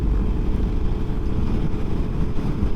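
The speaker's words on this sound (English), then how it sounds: "Let me close my helmet all the way so the wind don't seep in and make like a whistling noise" Steady roaring wind buffets the rider on a 2023 Yamaha MT-10 motorcycle cruising through Louisiana on a windy day, a continuous broadband rush with low rumble and no pauses.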